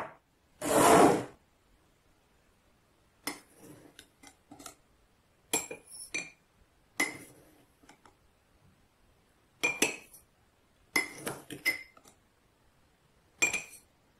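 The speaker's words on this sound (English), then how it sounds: "Take a glass jar and add a few spoonfuls of sugar." Several bursts of clinking as a spoon scrapes and taps against a glass jar while spooning sugar into it, separated by quiet pauses, close and clear.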